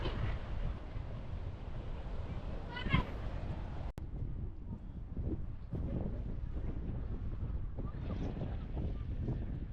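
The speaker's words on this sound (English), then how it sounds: "It's 20, 22 degrees, but it's extremely windy." Strong wind on the Irish coast at Kilkee buffets the microphone in a steady low roar that swells and dips, continuous under someone talking for much of the time.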